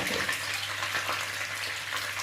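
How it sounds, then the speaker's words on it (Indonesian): Squid frying briefly in a pan for Betawi-style nasi ulam, a steady loud sizzle and hiss that runs continuously with no talk. "Sekarang lagi goreng cuminya."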